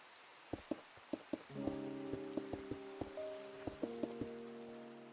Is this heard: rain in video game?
yes